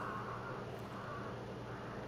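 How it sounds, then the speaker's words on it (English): Crows caw in the video game Hunt: Showdown, set off near a building; the calls sit faint and low in the mix under a steady wash of ambient game noise. "I can't get through the building without setting off crows"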